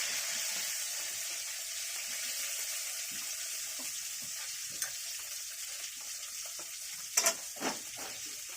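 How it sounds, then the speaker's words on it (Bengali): Dried red chillies and cumin seeds frying in hot oil, giving a steady close sizzle with a few sharper crackles and pops near the end. "দুটো শুকনো লঙ্কা ফোড়ন দেবো, একটু সাদা জিরে ফোড়ন দিলাম"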